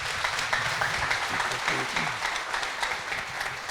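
Audience applause for the Lord during a bilingual Spanish-English church sermon, steady dense clapping from a sizable crowd filling the room, continuous and fairly loud for the whole stretch.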